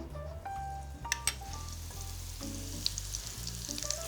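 Acorn squash frying in clarified butter in a skillet gives a steady, close sizzle broken by a few light pops and soft taps of stirring, no voices.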